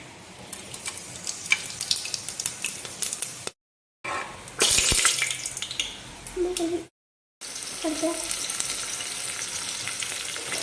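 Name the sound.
whole spices frying in oil in a pressure cooker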